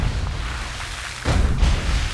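Cannon fire in the Red Alert 2 real-time strategy game: a deep rumbling boom erupts midway over a constant low battle din, loud and sustained rather than a single sharp crack.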